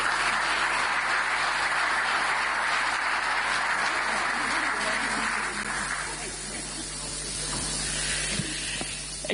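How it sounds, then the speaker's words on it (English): Audience applause at an EU-African Union summit as a speaker is called up, a broad hissing wash of clapping that thins out partway through before swelling again near the end. "Give her a warm round of applause."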